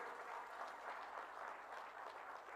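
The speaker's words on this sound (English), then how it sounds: "I would request you to kindly give a round of applause to our partners today" Audience applause at a large investment event in Bhubaneswar, Odisha, given for the event partners: a steady, even wash of many hands clapping, moderately distant and fairly quiet, with no talk over it.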